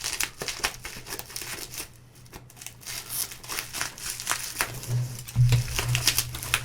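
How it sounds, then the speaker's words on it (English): Plastic packaging crinkles and tears in a steady run of crisp rustling bursts close up, with a low hum beneath and a louder scrunch near the end. "That's going to be a pain to unwrap."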